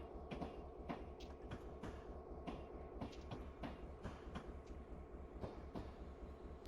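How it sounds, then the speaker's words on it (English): A freight train in Train Simulator 2021, switching in an Alaska yard, rolls steadily past with rhythmic clickety-clack of wheels over rail joints and a low continuous rumble, moderately close with no talk. "let's actually just do a roll by of our train right here."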